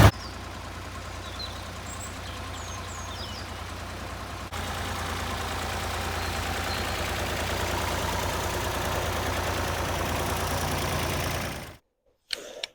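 An old Ford 4000 tractor engine idles steadily with a low, chugging rumble, rising slightly partway through, then cuts to silence near the end.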